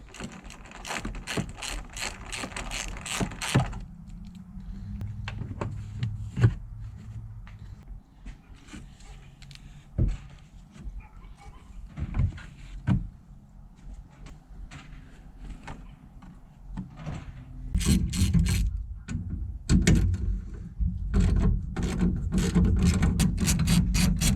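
An 8mm socket ratchet undoes bolts on an OBS Ford truck during a fender replacement. Bursts of rapid clicking come at the start and end, with scattered knocks and scraping from the work in between.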